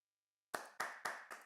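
Four distinct, close hand claps at an even rhythm after a moment of silence, a small isolated round of applause for a speaker, with no talk.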